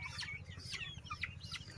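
Sonali super hybrid chickens on a Bangladeshi poultry farm of about 900 birds, giving several short, overlapping clucks and calls over a steady low background hum, near and fairly clear.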